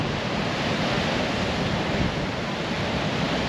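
Sea waves wash continuously onto the shore in Cebu, a broad, steady roar mixed with wind buffeting the microphone and no distinct voices.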